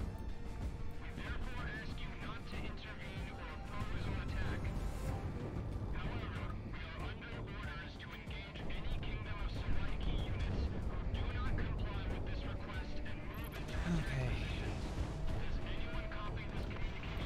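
Bomb explosions from a video game, steady booming and crashing blasts rolling on over a continuous dense game soundscape, moderately loud throughout with no clear gaps.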